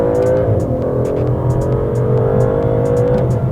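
An Aston Martin GT engine in sport mode revs hard and loud up close, its throaty note rising and settling with shifting pitch, punctuated by sharp crackles and pops, and no voices.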